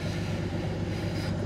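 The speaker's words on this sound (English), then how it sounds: "This is the Canadian Pacific Railway." A Canadian Pacific Railway train rolls past on the line at Elliotsville, Maine, a steady loud rumble with low wheel drone and faint clickety-clack throughout, no voices.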